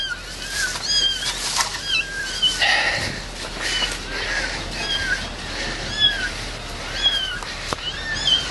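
Cats meow repeatedly amid tornado damage after strong winds, short high cries scattered at irregular intervals over rustling, wind and shuffling outdoor noise.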